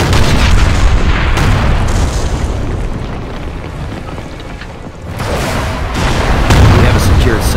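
Grenade blasts in the game Company of Heroes Modern Combat, US Army against the PLA, loud booming bursts rolling over one another with a dip midway, then another heavy rumbling wave near the end.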